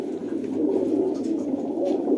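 Pigeons kept by a fancier coo steadily in a soft, low, continuous murmur, with a few overlapping calls nearby.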